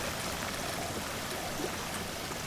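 Water flowing from pump hoses in the DrainSim video game, a steady broadband rushing and trickling wash that holds even throughout, moderately loud with no voices.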